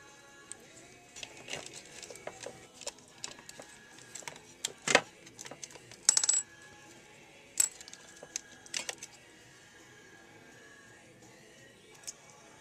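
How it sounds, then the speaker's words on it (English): Small metal screws being removed from a CD-ROM drive, sparse quiet clicks, scrapes and light metallic taps, scattered and close in a quiet room, with a few sharper clinks of small parts. "So we'll just take out all these screws."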